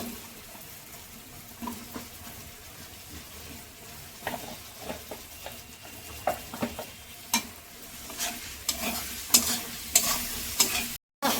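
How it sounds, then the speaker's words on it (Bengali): Spice masala with green chillies frying and being stirred in a pan, with a steady close sizzle and scraping stir strokes throughout, growing louder toward the end. "মশলাটাকে কষাবো। আর কাঁচা লঙ্কা দিয়ে দিচ্ছি"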